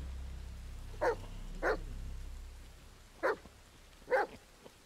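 A dog in The Medium lets out four short, separate barks, spaced irregularly over a low rumbling background, fairly quiet and at a moderate distance.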